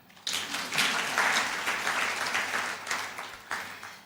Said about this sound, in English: You should clap for women